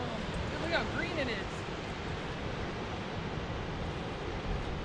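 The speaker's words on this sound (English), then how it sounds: "There's some water hitting off rocks." Water washes against rocks along the Oregon coast at Sunset Bay State Park, a faint continuous surf-like hiss with some wind blended in, steady throughout with no distinct individual breakers.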